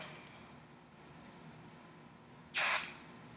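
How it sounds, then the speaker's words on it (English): A short, light burst of hair spray from an aerosol can aimed at the hair, one close hiss lasting under a second after a quiet stretch of room tone. "So I'm just gonna lightly spray to kind of get my hair going in that direction there."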